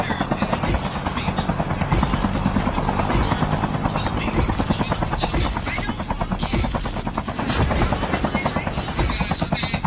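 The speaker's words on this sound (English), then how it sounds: "I got a helicopter to get there faster" A helicopter's rotor chops in a fast, steady thumping rhythm, loud and close throughout, with faint voices mixed underneath, in the zombies mode of Call of Duty Mobile.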